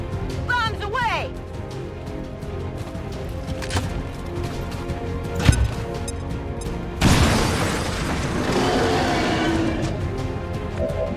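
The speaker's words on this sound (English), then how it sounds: "Bombs away!" Explosions go off in the XCOM 2 turn-based strategy game: a sharp blast, then a louder rumbling burst that carries on to the end, with game sound and voices around it.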